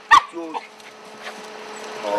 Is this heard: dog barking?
yes